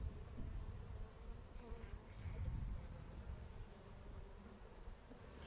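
A steady, dense buzzing of many honeybees at a hive close by, continuous and low-pitched with a constant hum throughout, no voices.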